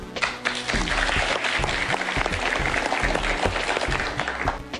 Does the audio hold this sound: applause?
yes